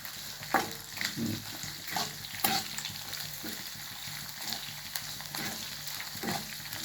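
Green chillies frying in hot oil for lemon rice, a continuous close sizzle with occasional stirring scrapes and crackles, no voices.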